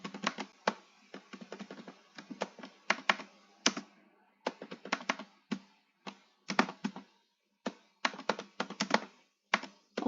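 A loud computer keyboard clacks under fast, irregular typing, with dense bursts of crisp keystrokes, a few short pauses and occasional heavier thunks, close up and with no talking.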